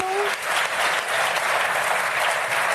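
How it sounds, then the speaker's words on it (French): An audience breaks into continuous applause, a full, even wash of clapping from many hands that holds steady and loud throughout. "c'est applaudi par un parterre de bourgeois"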